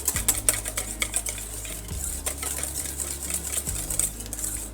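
A whisk beats hollandaise sauce in a hot bowl, a quick rhythmic clatter of wire against the sides with brief scraping strokes, close and moderately loud.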